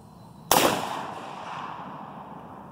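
A single loud, sharp shot from a Tanfoglio Thor single-shot pistol chambered in .308, cracking once at close range and then leaving a long, slowly fading echo with no talk.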